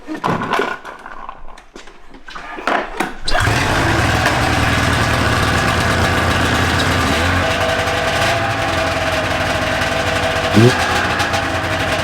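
A $1000 used snowmobile with a suspected blown engine cranks a few times, catches and then idles loudly and steadily close by, with brief talk before it starts.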